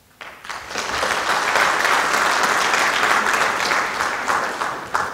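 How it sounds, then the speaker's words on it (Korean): An audience at a Korean unification advisory council inauguration ceremony in New Zealand welcomes guests with steady applause. It swells quickly, holds full and even for several seconds, then thins out. "마지막으로 뉴질랜드에 오신 신원숙 국장님, 조현영 교수님 외 추진단 여러분들에게 큰 환영의 박수를 부탁드립니다"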